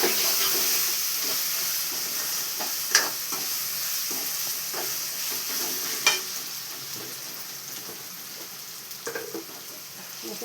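Onion and ginger-garlic paste frying in hot oil, a soft steady sizzle with a few brief stirring clinks and scrapes scattered through it, fairly quiet and without talk.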